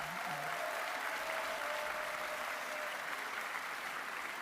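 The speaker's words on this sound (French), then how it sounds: "On peut les applaudir." An audience applauds foundry workers at a union rally at the Fête de l'Huma: steady, fairly distant clapping from a large crowd continues throughout without pause.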